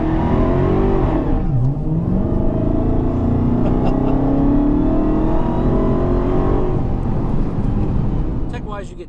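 A 2020 Dodge Charger SRT Hellcat Widebody engine revs and roars continuously, rising and falling in pitch with a deep, throaty rumble close by.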